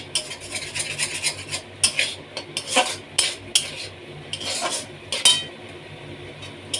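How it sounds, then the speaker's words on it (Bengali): A spatula scrapes and clatters in short, uneven strokes against a pan as vegetables and egg stir-fry for fried rice. The metallic scrapes sound close, with only a faint sizzle beneath them. "ডিমের সাথে সবজিটা ভাজা ভাজা হয়ে গেছে।"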